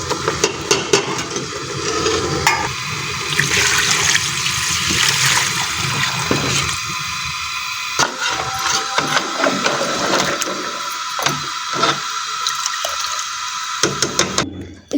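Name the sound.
pouring yakhni broth into cooking paya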